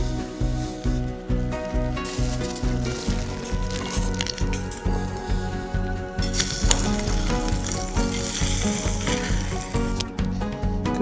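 Eggs frying in oil in a pan at a Winnats Pass camp, a loud close sizzle that crackles steadily throughout, with a rhythmic low thudding beneath it.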